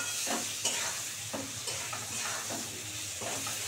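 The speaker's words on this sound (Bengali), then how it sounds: "আর পেঁয়াজটা একটু লাল লাল করে ভাজা করে নিই," Chopped onions and spices frying in a hot pan, a steady sizzle with rhythmic stirring scrapes every half second or so, close and fairly loud, no voices.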